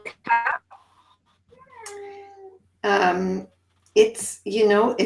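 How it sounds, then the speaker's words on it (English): A house cat meows several times during a video call, short tonal cries alternating with a person talking nearby, moderately loud and close. "Is that your cat?"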